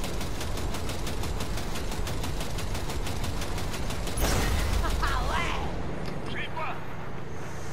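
Rapid automatic gunfire aimed at a vehicle coupling in Cyberpunk 2077, a steady fast rhythm of shots over engine rumble, then a loud burst and fading clatter, with a voice talking over it.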